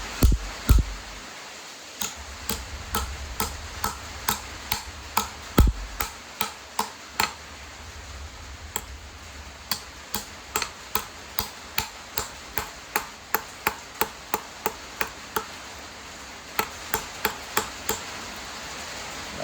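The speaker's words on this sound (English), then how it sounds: "And I like to hammer it plumb back into these corners real good too." Steady, sharp metallic hammer blows flattening copper pipe, close and ringing, struck in quick rhythmic runs with short pauses between sets.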